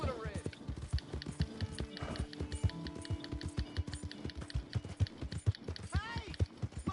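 Horse hooves clip-clop in a steady, brisk rhythm throughout a PS4 video game scene, close and fairly loud over a faint game backdrop.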